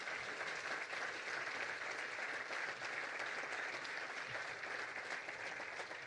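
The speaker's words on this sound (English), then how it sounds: "Will you give one more round of applause for David Ralston?" Audience applause for David Ralston at an outdoor ribbon-cutting ceremony, a steady, even round of clapping from a crowd that holds for several seconds without pause.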